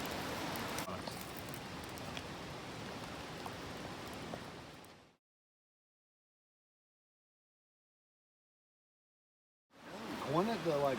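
Rain falls steadily on a backpacking camp in Linville Gorge, a dense patter that cuts out into silence partway through, then returns with a voice talking over it.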